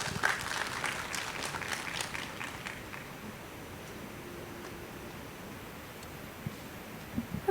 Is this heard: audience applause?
yes